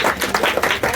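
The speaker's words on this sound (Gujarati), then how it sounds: "જોરદાર તાળીઓ." Brief, dense clapping from a theatre audience greeting a Gujarati film team on a visit, a second of close, steady applause with no voices.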